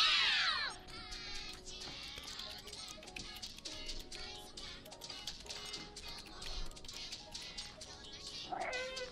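A cat meows repeatedly in the video game Stray, with a loud rising meow at the start and another near the end, over a bed of soft tapping, ticks and quiet game ambience.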